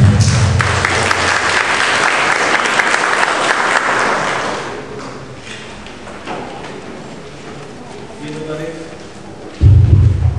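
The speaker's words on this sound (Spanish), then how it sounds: "Recibimos con un fuerte aplauso al doctor Frank Almanza Altamirano" Audience applause in a lecture hall at the Colegio de Abogados de Lima, welcoming a doctor to the podium: dense, loud clapping for about five seconds, fading to scattered claps and room noise, with a voice starting near the end.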